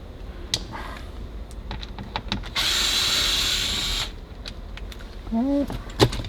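A power driver whirs steadily for about a second and a half while backing T20 Torx screws out of a 2019-2024 Jetta's interior trim, framed by scattered clicks and taps of handling parts, close and fairly loud.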